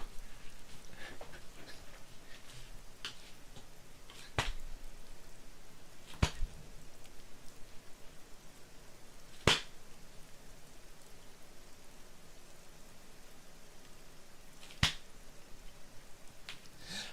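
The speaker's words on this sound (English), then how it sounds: "I was smacking my ass." A few isolated hand smacks on the body, close to the mic in an ASMR setting, land several seconds apart over a soft, steady background hiss.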